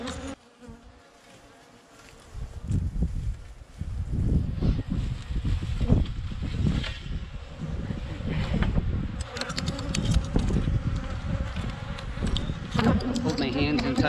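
Honeybees buzz loudly and continuously around an opened beehive during an outdoor beekeeping session, a dense close swarm drone that swells after a quieter start, with a brief voice near the beginning.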